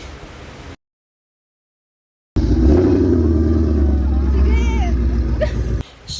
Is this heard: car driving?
yes